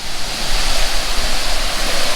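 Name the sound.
waterfall on Laurel Fork Falls Trail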